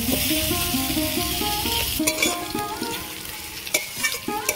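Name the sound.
frying potatoes with onion and green chilli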